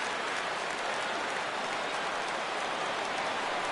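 Baseball video game stadium crowd cheering as fans rise for a full 3-2 count, a steady dense roar of many voices and claps lasting throughout with no pauses.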